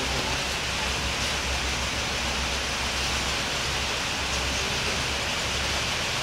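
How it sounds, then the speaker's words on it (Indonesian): Steady rain falls on a stopped intercity bus resting at Terminal Muara Bunga around dusk, making a constant, even hiss with a low rumble underneath and no break or voice throughout. "Hujan nih."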